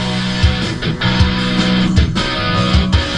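Excerpt of a song, a Mixolydian-mode rock passage with loud, dense full-band instrumentation and strong rhythmic low-end hits recurring throughout, no voices present.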